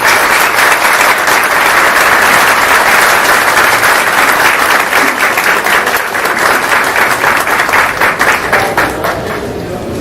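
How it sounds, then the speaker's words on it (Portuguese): Loud, continuous audience applause as speakers take the stage at a lecture session on Shakespeare and Cervantes, a thick wash of clapping that holds steady and then thins and fades over the last seconds. "para quem eu peço uma salva de palmas."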